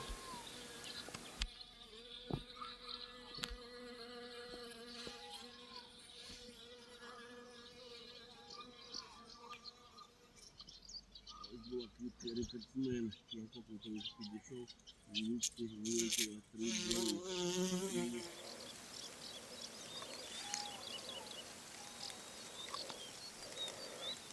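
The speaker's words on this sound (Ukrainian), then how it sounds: "Добре видно, що бджола збирає нектар." A bee drones steadily close by while collecting nectar from pumpkin flowers, rising and falling as it moves, with brief louder bursts midway and background noise throughout.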